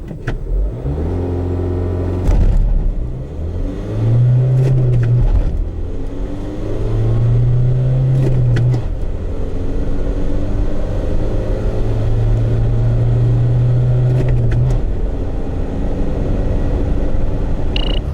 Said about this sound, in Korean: 과연 마스터 얼마만큼 빨리 달릴 수 있는지 한번 가속 성능을 확인해 볼까요?